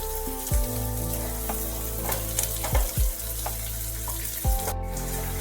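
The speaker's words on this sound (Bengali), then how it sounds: "ভালোভাবে তেলের সাথে পেঁয়াজগুলোকে নাড়াচাড়া করে নিতে হবে।" Chopped onions stirred through hot oil in a pan, a continuous close sizzle broken by several dull knocks and scrapes from stirring.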